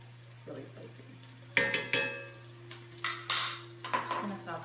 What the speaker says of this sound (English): Just gonna saute this up.